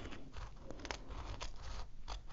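Scissors trim fabric close to the stitching inside a machine embroidery hoop for a small treat bag, producing quiet, crisp snipping and crunching cuts in a quick irregular series, near and soft.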